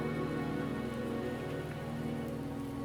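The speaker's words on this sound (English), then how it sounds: "The rain is subsiding, and the sky will soon clear." Rain pours in a video game, a dense steady hiss of drops over a sustained tonal music layer, loud and unbroken throughout.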